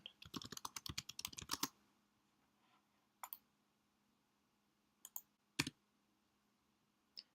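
A burst of quick keystrokes on a computer keyboard while typing a git clone command into a terminal, followed by a few isolated key taps and a final sharp press, all close and fairly quiet.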